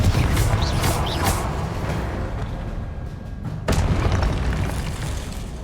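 A Confringo fire-spell explosion in the video game Hogwarts Legacy booms loudly and close, with a heavy rumbling blast that briefly dips before a second burst rolls in over game sound.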